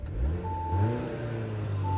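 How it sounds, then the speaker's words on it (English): A 2022 Audi A4 45 TFSI Prestige S-Line, parked and stationary, gets a short rev, a smooth engine note rising and settling under a steady idle hum, heard from inside the cabin. "I'll just give it some revs"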